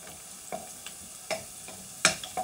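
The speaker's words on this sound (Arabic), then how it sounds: "ملي كتكون يعني كتحمر كتقلى هاد البصلة" Onion frying in a pan while being stirred with a spoon, with cinnamon in the pan, cooking until caramelised for Egyptian sayadeya rice; faint background sizzle broken by several separate scraping and clinking stir strokes.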